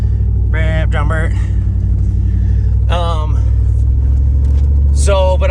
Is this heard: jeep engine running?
yes